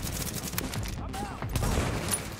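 Rapid gunfire crackles in The Division, quick closely spaced gunshots in bursts over a dense, noisy backdrop.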